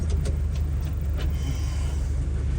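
Ford Model A with a Holley 94 carburetor driving, a steady low engine and road rumble carrying at constant loudness from start to finish with no talk.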